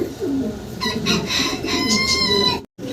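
Several pigeons coo and burble close by in a pigeon house, overlapping soft throaty calls running continuously for a few seconds before a brief cutoff.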